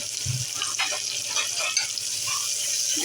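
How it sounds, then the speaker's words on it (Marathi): Onion sizzles steadily in hot oil with cloves, cumin and bay leaf, a continuous close frying hiss with small crackles and a brief stirring clunk. "आता याच्यामध्ये आपण कांदा टाकून घेऊया"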